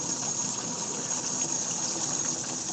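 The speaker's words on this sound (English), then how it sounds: "I'm going to let some of this water out. It's shooting out the bottom." Water gushes steadily out of the drain at the bottom of an ice maker during cleaning, a continuous close hissing rush with no talking.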